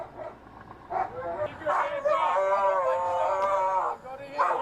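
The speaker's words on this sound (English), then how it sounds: "Let the dog go." Police dog barking in a video game, several sharp barks in quick succession over a tense chase with people shouting nearby.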